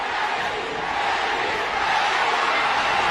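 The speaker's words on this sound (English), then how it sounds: "Pacquiao crowd chanting, Manny, Manny, Manny." A boxing arena crowd chants for Manny Pacquiao during his third fight with Erik Morales. The roar is dense and continuous, loud and without pause, with many voices blending into one wash.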